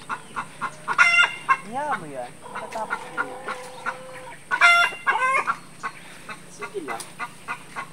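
Chickens cluck and squawk in bursts around a backyard garden grown from discarded vegetable scraps, with a rooster nearby, while a person talks over them in Filipino.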